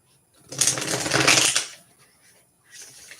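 A tarot card deck is riffled and shuffled up close, giving a loud, dense flurry of flapping cards for about a second, then a quieter, shorter burst of card handling after a pause.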